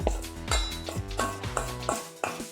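Cauliflower pieces tossed in a bowl with maida, cornflour, chilli powder and chicken masala give repeated close clinks and scrapes, about one stroke every half second, with no talk.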